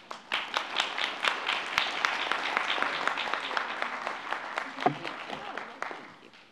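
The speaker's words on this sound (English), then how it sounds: "giving all of these presenters another round of applause for being here this evening" An audience at a school board meeting applauds, a steady wash of many hands clapping that swells and then tapers off toward the end, with a little voice underneath.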